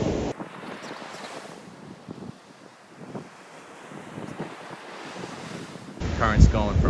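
Ocean surf with a strong current rushes and rumbles in a steady wash, buffeted by heavy wind noise on the microphone, with a louder gust toward the end.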